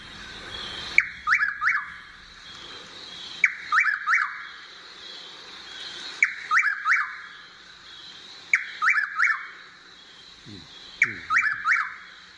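A chuck-will's-widow calls repeatedly at night, its whistled phrase coming clearly and evenly about every two and a half seconds against quiet.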